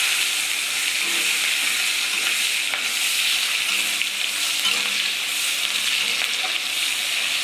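Onions frying in a pan for a Bengali-style chicken jackfruit curry with garam masala and dried chillies, a loud steady sizzle and hiss throughout with faint stirring scrapes, no talking.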